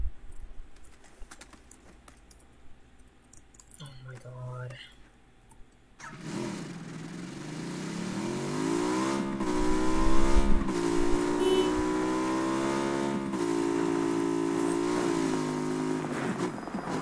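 A motorbike engine in PUBG starts up and revs, its rising and falling whine building over several seconds and settling into a steady drone, after quiet clicking and a short tone.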